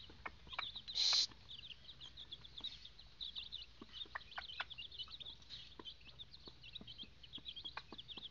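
A mother hen clucks softly and repeatedly at close range, a quiet run of short, throaty clucks with one louder squawk near the start and faint chick peeps mixed in.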